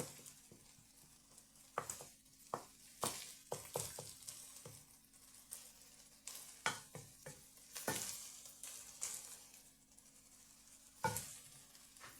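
Beaten egg and vegetables fry for kottu roti as a spatula stirs and scrapes the pan, giving irregular soft scrapes over a faint sizzle at low volume, with no voices.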